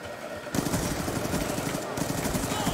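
Gunfire from an MSMC submachine gun in a Black Ops 2 multiplayer match bursts in after a brief pause, a dense sustained rattle of rapid shots lasting over two seconds, loud and close, with game noise underneath.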